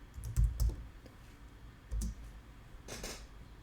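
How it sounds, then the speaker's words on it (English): Computer keyboard being typed on while entering a command, a few sparse clicks and short bursts of keystrokes, fairly close and fairly quiet with no talking. "by typing the command python"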